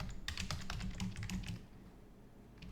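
Rapid keystrokes on a computer keyboard in a quiet room, a quick burst of clustered taps for about a second and a half, then fading to faint background hiss.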